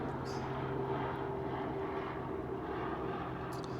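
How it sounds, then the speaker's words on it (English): Steady droning rotor and engine noise of a helicopter passing overhead, continuous and moderately distant, with no voices. "And we'll let that helicopter go over."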